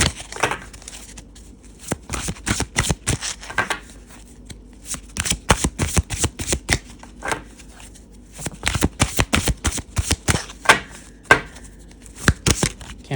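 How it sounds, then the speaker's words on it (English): A deck of oracle cards being shuffled by hand in repeated bursts of crisp riffling and flicking, close and loud, separated by short pauses over about thirteen seconds. "Okay, I'm feeling called for a shuffle. Let's just shuffle."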